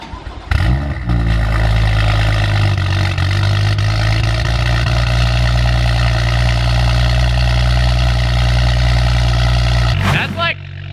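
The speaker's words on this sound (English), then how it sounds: "we gotta do an M2 cold start" A BMW M2 with an FI aftermarket exhaust fires up from a cold start with a sharp bark, then settles into a loud, deep, rumbling idle that holds steady before a final blip of revs.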